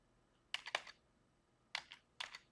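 A few short bursts of computer keyboard typing entering a file name, quiet and close, with clusters of clicks separated by pauses and no talking.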